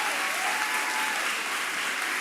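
Youth symposium audience applauding in a hall, a dense, even wash of clapping from many hands, fairly distant and continuous.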